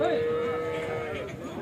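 A cow lowing at an open-air Sunday cattle market in Chintamani, a single long, loud moo close by, with faint crowd murmur and voices underneath.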